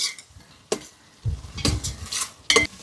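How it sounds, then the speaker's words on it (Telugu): Ginger garlic paste cooking down in a masala for a prawn pulao, with a few sharp stirring scrapes of a spoon against the pot over a low sizzle, alone with no talk. "అల్లం వెల్లుల్లి పేస్ట్ పచ్చివాసన పోయేంత వరకు ఇలాగా మసాలాలోనే ఉడకబెడతాను."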